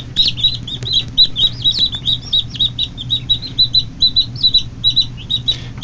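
Newly hatched chicks, sold as Easter chickens, cheep steadily in a brooder with many overlapping high peeps in a busy rhythm, close by, over a low steady hum.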